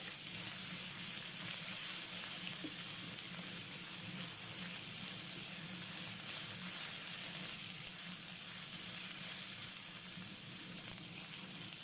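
Onions and garlic sautéing in a very hot wok, a steady bright sizzle with soft crackling that holds evenly throughout, moderately loud and without talk.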